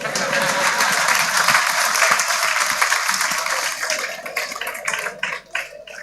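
Audience applause at the Ghana Physician Assistants Association annual general conference, a dense steady patter of many hands that thins and breaks into scattered claps toward the end.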